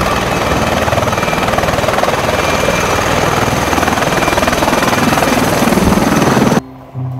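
A propeller aircraft's rotating propellers drone loudly and steadily in a dense, continuous whir close by, then cut off abruptly near the end.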